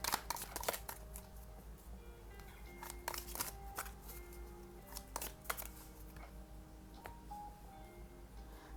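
Tarot cards are shuffled and handled in a quiet room, giving a run of soft riffling and snapping bursts with brief pauses between them, close and fairly faint, with no talking.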